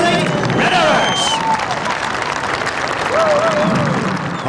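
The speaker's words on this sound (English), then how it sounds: "That's a big cheer for the 2008 Red Arrows!" A large outdoor crowd cheers and applauds the 2008 Red Arrows RAF aerobatic display team, sustained loud clapping and shouts with whistles rising over it throughout.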